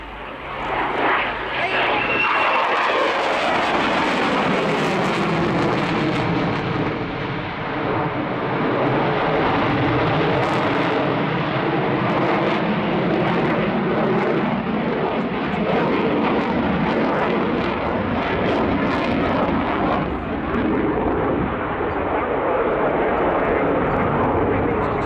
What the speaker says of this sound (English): So coming in from the left, the Swiss F18 Hornet.